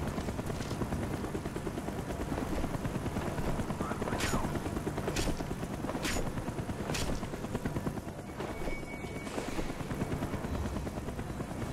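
Helicopter in a Call of Duty: Black Ops mission at an evacuating facility, a steady loud rotor thrum throughout, broken by several sharp gunshot-like cracks, with faint voices underneath.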